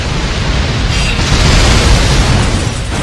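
A disc launcher weapon fires in the sci-fi shooter Vanquish, giving a loud, continuous, dense noisy roar that holds steady for about three seconds with no voices over it.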